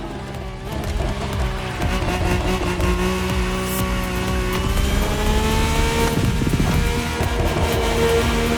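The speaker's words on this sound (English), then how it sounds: "The rally car has already changed its course to reach the dirt." Rally car racing on a dirt course, engine droning and revving steadily with a rising pitch toward the end, loud and continuous with gritty surface noise.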